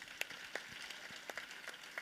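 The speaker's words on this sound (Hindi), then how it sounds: "कृपया इस बात पे भी आप तालियां बजा दें" An audience at a religious discourse gathering claps at a request, a faint, distant patter of scattered hand claps with a few sharper individual claps standing out, continuing evenly throughout.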